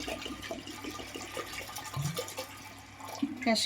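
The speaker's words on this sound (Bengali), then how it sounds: "এবার আমি এর মধ্যে জল দিয়ে দিলাম" Water is poured into a pot in a home kitchen for boiling in a pressure cooker, a close, steady splashing trickle over a few seconds.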